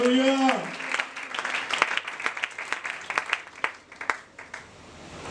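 A church congregation bursts into applause and cheering for the saints, with scattered claps building into a dense crackle that persists to the end, mixed with voices over a sung tone at the start.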